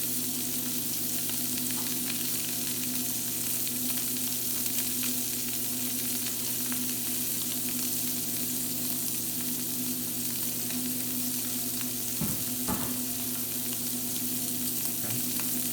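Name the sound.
scallops searing in a hot pan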